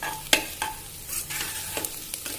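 Red chili powder being sautéed for pasta, a light sizzle broken by repeated quick stirring strokes and spoon scrapes in an uneven rhythm.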